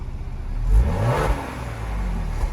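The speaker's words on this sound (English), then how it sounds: "I'm going to have Ryan give a little bit of revving." A 2020 Ford Explorer ST engine revs up briefly and settles back, fairly quiet and close, with a soft rumble and no talking.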